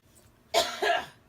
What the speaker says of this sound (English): Are you done coughing?